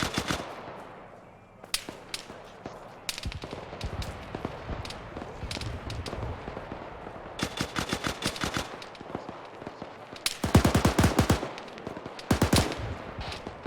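Heavy autocannon and gunfire in an ArmA 3 battle, with a BTR and infantry in a field: loud repeated bursts of rapid shots, some close and sharp, others more distant, over a constant rumble of combat.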